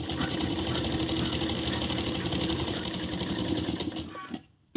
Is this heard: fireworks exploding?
no